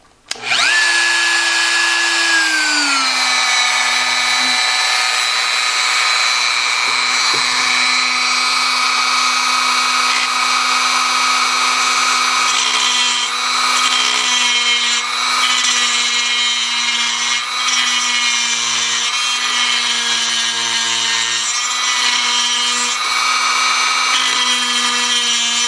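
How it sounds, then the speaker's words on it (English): A Dremel rotary tool with a diamond cutoff wheel cuts an old Ironhead oil pump body. It spins up with a rising whine, then holds a loud, steady, high-pitched grinding scream that dips briefly as the wheel bites under load. "I got a new diamond cutoff wheel and a Dremel tool"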